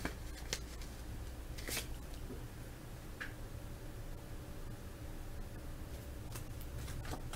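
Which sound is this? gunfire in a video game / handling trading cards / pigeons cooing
handling trading cards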